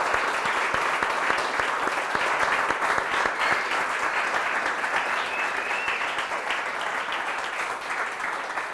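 Continuous audience applause at a game jam event, thick and steady clapping from many people close by, sustained for the full duration with only a slight easing near the end.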